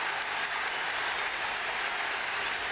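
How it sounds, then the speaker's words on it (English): A big crowd roars steadily at a 2002 All-Ireland hurling semi-final between Tipperary and Kilkenny after a point is scored, a dense continuous swell of cheering with no break. "Big roar from the crowd"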